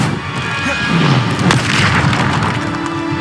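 A Descendo spell lands in Hogwarts Legacy combat with a deep, loud booming impact under game effects, among other spellcasting noise.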